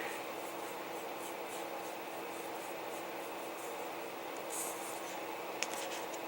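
Steady dry rubbing and scratching of paint being worked into a paper jar label to age it, close and continuous with a soft rasping texture and a brief louder scrape near the end.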